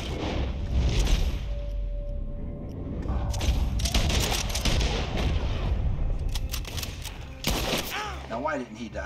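Rapid gunfire from Red Dead Redemption 2, a loud barrage of shots and booming blasts mixed with game effects and voices talking throughout.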